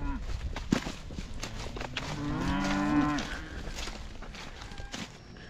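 On a farm, a single drawn-out cow moo rises over background shuffling and hoof-like footsteps from nearby cattle.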